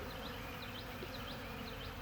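Honey bees buzz around open feed set out for them, a dense, steady, continuous hum from many insects close by, with no voices.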